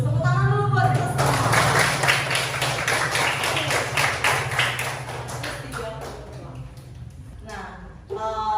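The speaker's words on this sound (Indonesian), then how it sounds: "Tepuk tangan dulu buat kita semua." Schoolchildren clap together in a classroom during a maths lesson, a quick run of sharp, rhythmic claps lasting several seconds, with voices talking over and around them.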